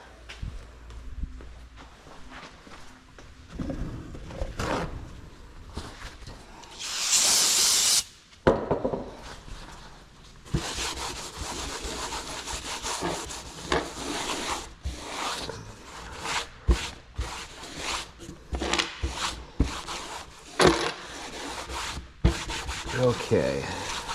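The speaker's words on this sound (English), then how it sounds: "I think I see a little bit of grease. I'm gonna wipe that off." Cloth rubbing and wiping grease from Brembo brake caliper parts during a big brake kit install on a Z31 300ZX, with close, irregular scrubbing strokes, a brief sharper hiss midway, and no talking.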